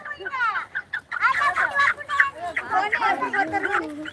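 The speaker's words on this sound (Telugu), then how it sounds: "కోడి పోతుంది మెల్ల" A hen clucks close by among people talking over it, her short calls mixed into the busy speech near a village cattle herd.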